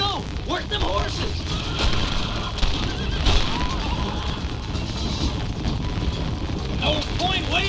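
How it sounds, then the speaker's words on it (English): Horses whinny and neigh several times while wagon hooves clatter during a chase in the Western video game Red Dead Redemption, with wind rushing and voices shouting over the loud action. "Work them horses!"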